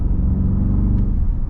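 A Bentley Continental GTC V8 convertible's engine gives a loud, close, deep rumbling drone, a brief steady grunt from inside the car with no voices.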